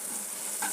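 Vegetables seasoned with salt and turmeric sizzle softly in a hot pan while being stirred, a faint close hiss with a brief scrape of the spoon near the end.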